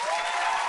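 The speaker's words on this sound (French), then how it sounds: "Merci de m'applaudir." Audience applause at an improv theatre match: a dense, steady burst of clapping from a crowd, brief and continuous, with no voices over it.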